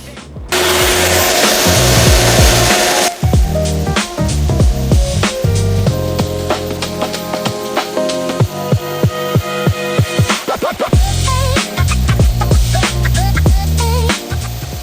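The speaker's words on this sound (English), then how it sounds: "I'm gonna sand it now, just a little bit, so it has more grip." A carbon fiber mold for a Ferrari F430 is sanded with a loud, close, steady abrasive hiss, followed by a run of sharp scraping clicks and knocks.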